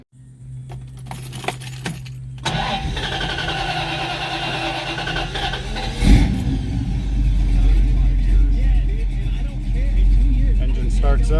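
Keys jangle in the ignition of a restored 1968 Dodge Charger R/T, then the 440 big-block V8 cranks and fires after a pump or two of the gas and settles into a loud, smooth, rumbling idle close by, with a voice talking over the start.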